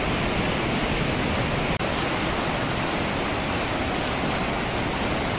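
Steady, dense rush of grey glacial meltwater fills the whole clip, a broad even roar of a fast stream close by in Norway, with no voices.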